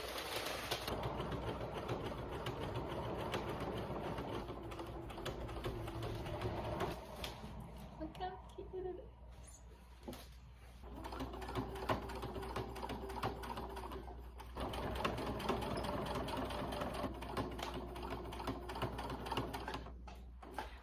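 Sewing machine stitching fabric patches onto thrifted clothing, a steady close mechanical whir running through most of the stretch with brief pauses and restarts, and soft talk over parts of it.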